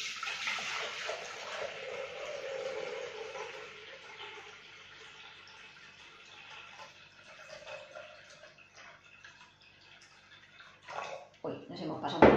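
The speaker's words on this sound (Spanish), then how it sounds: "la receta nos dice que pongamos el agua en el vaso" Water is poured into a Thermomix bowl while measuring 1200 grams for spaghetti with prawns and tuna, giving a steady splashing rush that tapers off, followed by a few clunks of handling near the end.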